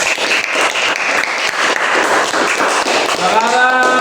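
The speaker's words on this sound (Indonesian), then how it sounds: "beri tepuk tangan buat kelompok 4" A classroom group applauds after a lesson on the holy books, steady dense clapping throughout at close range, with a voice starting to speak near the end.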